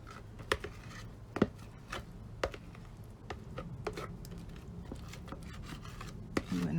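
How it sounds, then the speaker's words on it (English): A metal spoon scrapes and taps through thick pumpkin pie filling in a baking pan, a series of soft rubbing strokes punctuated by sharp clinks against the pan, close up with quiet talk at times. "I'm going to spread it out with the back of my spoon, just so that it's even in the pan"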